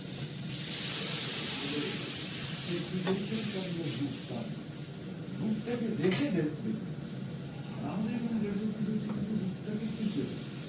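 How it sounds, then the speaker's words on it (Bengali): Water splashes into a pan of red-fried potatoes and spices for aloo dum, setting off a loud burst of sizzling hiss that eases into a steady simmering crackle, with faint stirring and a voice talking at times. "অল্প করে জল দিলাম, সেদ্ধ হতে আলু সেদ্ধ হতে যতটুকু জল লাগে ততটুকু জল দিলাম"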